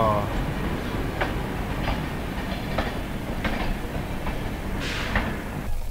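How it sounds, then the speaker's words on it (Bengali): The Hatia–Pune Superfast Express rolling over the Nagpur diamond crossing, a moderate rail rumble punctuated by a regular series of sharp wheel clacks, with faint voices in the background. "ঢুকছে হাটিয়া পুনে।"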